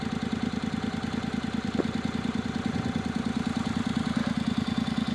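A Honda CTX700 motorcycle engine idles with a steady, rapid low pulsing thrum, close and even throughout with no other sounds.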